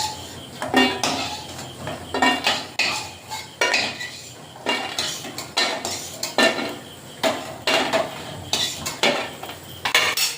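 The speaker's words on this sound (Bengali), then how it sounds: "বড়িগুলো ভাজা হয়ে গেছে এবারে তুলে নেব" Fried lentil dumplings being lifted from a pan, with repeated metallic scrapes and clinks of a utensil against the pan in quick uneven strokes, close and fairly loud, no voices.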